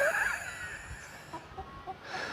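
Chickens clucking in a backyard garden before dawn, a few short soft clucks spaced out at middle distance over a steady faint hiss of outdoor ambience.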